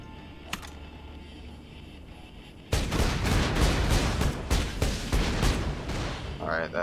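A rocket-shooting gun in Borderlands 2 fires a rapid barrage of loud, close blasts after a quiet start, the shots coming in dense irregular bursts.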